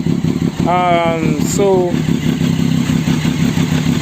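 A Triumph Daytona 675 motorcycle engine idling close by, running rich with a constant check engine light, a steady pulsing throb throughout, with a voice speaking briefly over it.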